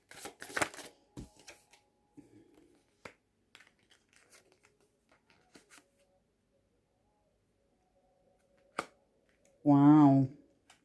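Moon Magic Oracle cards being handled and shuffled, giving soft papery riffles and flicks close by at the start, then scattered quiet taps and pauses, with a brief voice near the end.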